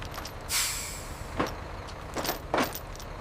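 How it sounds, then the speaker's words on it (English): A truck halting at a staging area during a restoration job, with several short hissing air-brake bursts spaced apart over low rumbling background noise. "All right, hold it right there. Stop the truck now."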